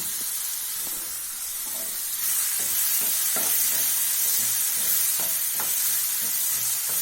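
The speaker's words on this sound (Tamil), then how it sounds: "ஒரு ரெண்டு நிமிஷம் வதக்கலாம்" Ingredients for bread chilli sizzle and fry steadily in a pan, with occasional stirring clicks and scrapes over a constant hiss that grows slightly louder partway through; no one speaks.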